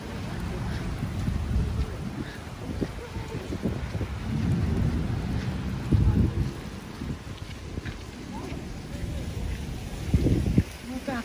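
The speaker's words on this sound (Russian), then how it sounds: "иду домой под дождичком" Heavy rain and thunderstorm in Kyiv, with a steady outdoor wash of rain and low rumbling swells, plus wind buffeting the microphone and brief louder thumps.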